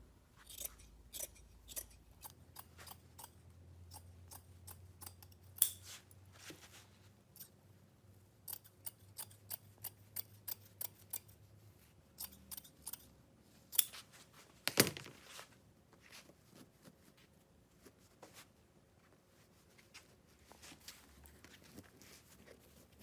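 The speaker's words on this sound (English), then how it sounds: "We're going to trim some excess off." Scissors trimming excess upholstery fabric from a VW Vanagon seat, many crisp snipping cuts in irregular clusters, close and quiet, with faint handling rustles between them.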